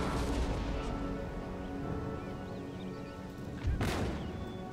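Cannons fire in a battle in the strategy game Empire: Total War, with low booms over a dense rumbling battle din and one sharp, louder blast near the end.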